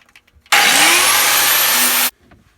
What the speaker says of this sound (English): we're just going to use a grinder and cut these tabs off